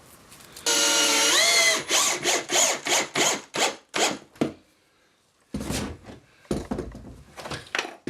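Power drill driving screws through a wall into a wooden stud, several loud close bursts of whirring, the first long and rising in pitch, then a string of short pulses, a pause and more short bursts.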